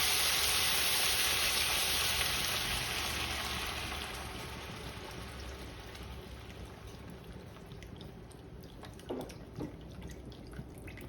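Beef broth poured into a hot pan of Salisbury steaks, a loud steady hiss and sizzle that slowly fades, with a few small splashes and drips near the end.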